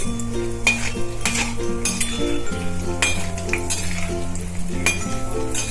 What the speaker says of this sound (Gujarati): તો એને આપણે એકદમ ધીમા તાપે તળવાના છે